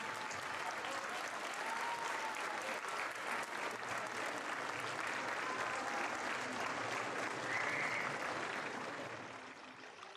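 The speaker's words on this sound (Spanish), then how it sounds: "les pediría un fuerte aplauso para los abogados" An audience at an Indigenous community gathering claps for the lawyers, a sustained, even wash of applause that holds for several seconds, then fades near the end; a few faint voices sound beneath it.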